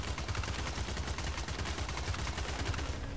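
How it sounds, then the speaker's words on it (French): Rapid bursts from a submachine gun in a video game, dense crackling shots rattling in quick succession at steady loudness across the whole stretch. "Ça c'est une petite mitraillette pas mal aussi."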